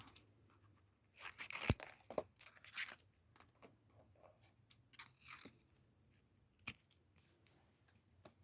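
Scissors trimming paper for a journal spread, a few sharp crisp snips and crunchy cuts spaced irregularly amid quiet rustling, close and fairly soft.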